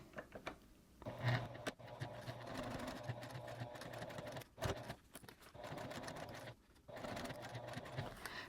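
A sewing machine fitted with a zipper foot runs across a hip bag at a quarter-inch seam allowance with a 3mm stitch length and backstitching, whirring steadily in close bursts broken by brief pauses.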